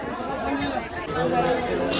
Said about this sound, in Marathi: प्रचंड गर्दी आहे गाई, प्रचंड गर्दी.